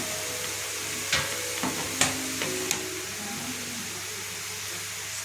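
Mushroom curry is stirred in a pan after a pinch of salt goes in, with a low frying sizzle under several sharp metallic scrapes and taps of a spoon against the pan.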